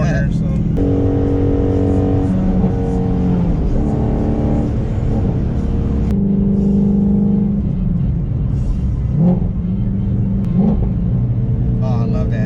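A Ford Shelby GT350's flat-plane V8 is driven hard, with loud close engine drone that climbs and shifts through gears under a rumbling, roaring cabin tone, and it keeps going steadily.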